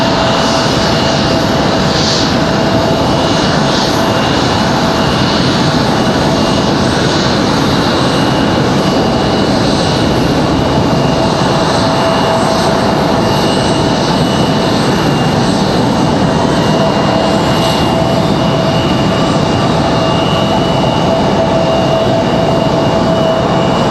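A CRJ jet airliner at Raleigh-Durham airport produces a loud, sustained engine roar with a steady whine, constant in level throughout and unaccompanied by talk.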